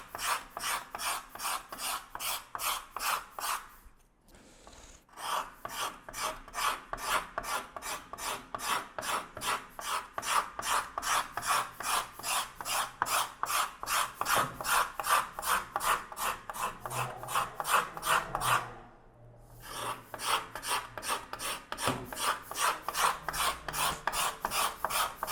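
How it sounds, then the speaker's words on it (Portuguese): Steady, rhythmic rasping strokes as a luthier scrapes and files a wooden violin part during finishing, loud and close with two brief pauses, no talking. "vou começar a raspar e dar o acabamento"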